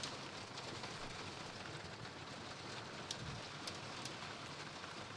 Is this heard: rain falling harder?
yes